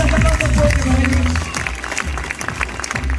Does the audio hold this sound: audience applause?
yes